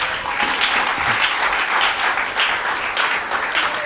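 Church congregation applauding together in a steady, dense wash of clapping that holds for about four seconds, loud and close with no pauses.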